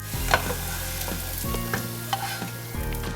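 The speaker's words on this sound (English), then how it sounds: "stir it together on a low heat" Celery and carrot being stirred into a large pot of bolognese sauce over low heat, repeated scraping strokes of a utensil against the pot over a soft, steady sizzle, close up and without talk.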